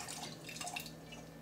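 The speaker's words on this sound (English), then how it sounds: "take the water and pour the water out, the hot water" Hot water is poured out of a container holding softened polycaprolactone moldable plastic pellets, a faint, close trickle and scattered drips with no voices.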